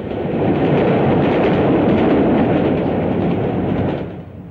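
A diesel multiple unit train passes close by on British rails around 1959, giving a loud, dense, continuous roar and rumble that holds steady and then begins to fade away toward the end.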